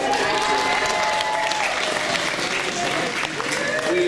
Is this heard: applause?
yes